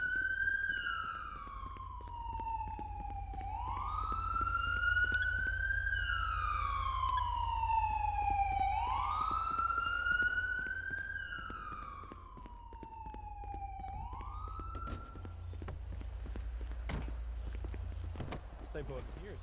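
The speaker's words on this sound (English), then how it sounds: "Get that siren shut off." A police car siren in the video game GTA 5 wails in slow rising and falling sweeps that repeat several times. A low engine hum runs beneath it, and it plays faintly behind the surroundings.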